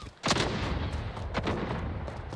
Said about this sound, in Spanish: No me puedo disparar cuando pego a Nosco porque se me cancela el disparo